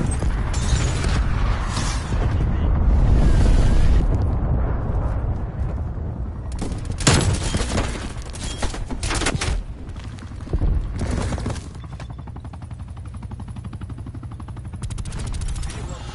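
Gunfire in Black Ops 4, a shotgun among it, with repeated loud shots and bursts across a busy firefight, some sharp blasts standing out near the middle while a player talks over the action.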